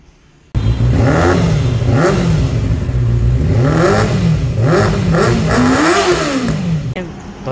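A Benelli 302R, a 302 cc motorcycle, revs its engine hard and close, the pitch climbing and falling in repeated throttle blips over several seconds before cutting off abruptly.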